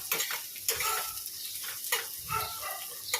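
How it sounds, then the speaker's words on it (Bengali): Potatoes fry in a pan for a breakfast side dish to eat with flatbread. A hissing sizzle continues throughout and is broken by irregular clatters and scrapes of stirring at close range. "এখানে আলু ভাজা করছে"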